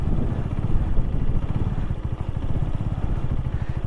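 A motorcycle ridden slowly with the throttle applied, its engine giving a steady, close, throbbing low rumble with a rapid pulsing beat throughout, no speech.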